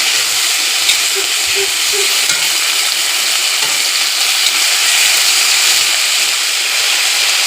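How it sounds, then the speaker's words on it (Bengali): Mixed vegetables for Bengali sukto with fenugreek sizzle and hiss steadily in a hot pan while being stirred, a continuous close frying crackle with occasional scraping and no speech. "সব সবজিগুলো দেখো দিয়ে দিলাম দিয়ে ভালো করে নাড়াচাড়া করছি"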